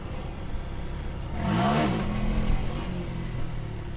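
A Honda Grom motorcycle engine revs and pulls hard in second gear, a steady mid-pitched drone that swells and rises in pitch for a moment before easing back, heard close and with no talking.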